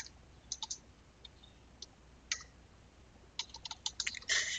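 Quiet computer keyboard typing of code: scattered light key clicks, a few isolated taps, then a quicker burst of keystrokes at the end, close and clear with no talking.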